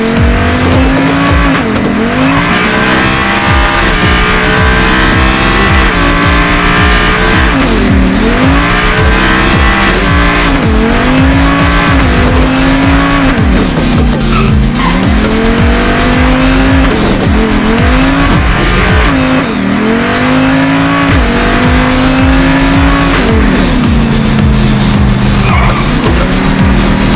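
Car in the video game Payday 2 drives hard, its engine droning loudly as tires squeal again and again through repeated sliding turns, continuous and close with no voices.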